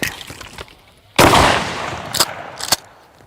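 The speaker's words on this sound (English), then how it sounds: "thought we'd do a little Russian skeet shooting" A loud gunshot bursts close by during Russian skeet shooting, followed by two sharper shots about half a second apart, with softer rustling and handling noise before and between them.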